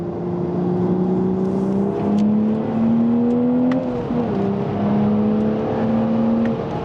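A 2025 GR Supra or Corolla lapping a racetrack in third gear, engine drone climbing steadily in pitch, easing briefly midway, then pulling again, loud and close from inside the car with no talk.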